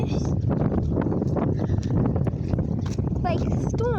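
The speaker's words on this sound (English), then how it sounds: "it's just really windy" Strong wind buffets the microphone outdoors on a dusty, stormy day, a loud continuous roar with gusty low rumble while a person talks over it.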